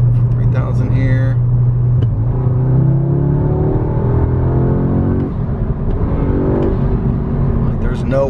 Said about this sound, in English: The transient response on this turbo is just amazing, especially with the stock downpipe.